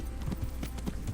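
A horse gallops in the video game Kingdom Come Deliverance, its hooves beating a quick, even clip-clop rhythm close by for about a second.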